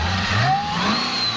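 A supercharged Cadillac CTS-V coupe with the hood popped revs up close. The engine roar climbs and a thin supercharger whine rises sharply above it, loud and alone, in one short burst.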